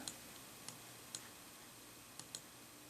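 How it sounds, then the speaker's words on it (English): A wireless mouse clicks quietly while in use with an ASUS Eee Pad Transformer Prime tablet, six or so sharp, faint, irregularly spaced clicks over a soft background hiss, with no talking. "I'm clicking around here, and obviously I'm using the wireless mouse to do that"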